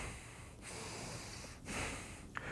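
Short, sharp sniffs through the nose, three of them spaced about a second apart, close and fairly soft against a breathy background.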